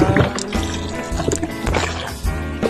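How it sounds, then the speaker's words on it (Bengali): Water tipped from a mug onto a plant's soil, a loud, close, continuous gush and splash with gurgling and dribbling throughout, fluctuating but never pausing. "এইভাবেই জল দিবেন গাছে"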